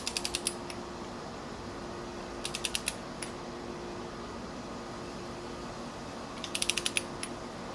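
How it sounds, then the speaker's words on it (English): A torque wrench tightens 17 mm oil pump bolts on a Honda Civic EF wagon's B18 engine, giving three separate bursts of fast ratcheting clicks over a low hum, close and fairly quiet. "I got my bigger torque wrench here, and these again are 17."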